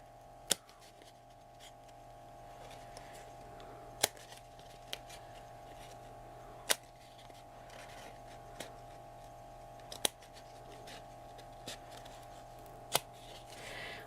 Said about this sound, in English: So we're going to cut the first one out. Just scissors like that.